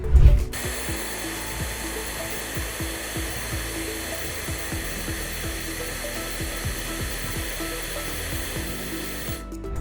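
A LYDSTO S501 hair dryer blows with a steady, loud whirring roar that runs continuously from start to finish.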